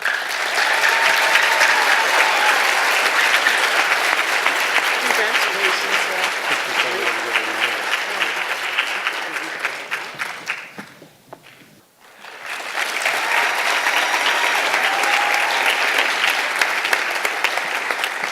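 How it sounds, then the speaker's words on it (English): Awards ceremony audience at an education event applauding loudly and steadily, dipping briefly to near quiet midway before a second strong burst of clapping resumes. "Let's give all of our employees another round of applause."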